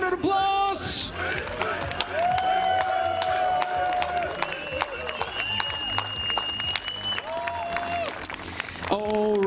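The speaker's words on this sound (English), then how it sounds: "MVPs. Round of applause." A crowd at the International Scaffolders Championship 2023 applauds and cheers the three MVPs, loud continuous clapping with whoops and sustained voices, while music tones and nearby talk run through it.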